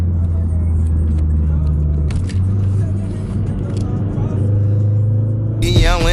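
A car engine pulls hard and accelerates with a deep, steady, loud rumble heard from inside the car during a Toys for Tots car show, with someone talking over it.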